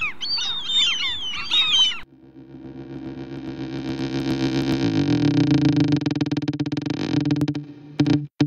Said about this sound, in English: There's that bird again.